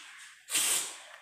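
A spray can releasing a short, sharp burst of hissing spray lasting roughly a third of a second, quiet and close, followed by a faint tap.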